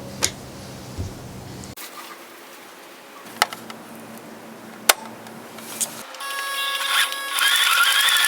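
A few sharp clicks and taps of handling tent fabric come first, then a sewing machine whirs up close, stitching a zipper into a rooftop tent door.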